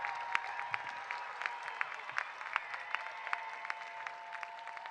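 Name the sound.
commencement crowd applause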